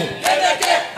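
A crowd cheers and ululates to welcome Professor Kithure Kindiki at a public gathering in Embu. It is a brief, loud burst of high trilling voices that swells twice over a steady murmur.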